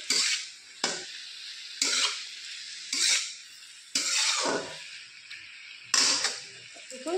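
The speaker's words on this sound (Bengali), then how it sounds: "নাড়াচাড়া করে একটু হালকা ভেজে নেব, বেশি ভাজবো না" Ridge gourd and potato pieces with turmeric are stirred in a pan and lightly fried, giving repeated bursts of scraping and clatter at roughly one-second intervals, with soft sizzle between strokes.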